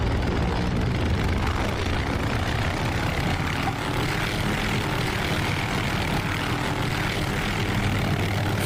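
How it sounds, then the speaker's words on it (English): A helicopter's rotors whir outside the cockpit in the DCS flight simulator game, a dense, continuous, fairly loud rotor and engine roar with no voices. "There you guys can hear the whir of the rotors on the outside."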